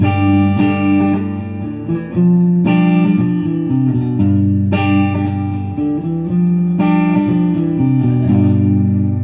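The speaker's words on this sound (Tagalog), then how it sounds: "Ito naman yung single coil ng neck pickup." Electric guitar on a single-coil neck pickup strumming a repeated chord progression with a clear, slightly brighter tone, steady and loud, no talking over it.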